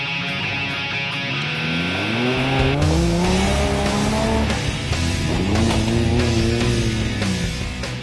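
Off-road vehicle, a modified Toyota 80-series, driving on dirt tracks, its engine revving and rising in pitch through repeated gear changes, with tyre and drivetrain noise, loud and close throughout.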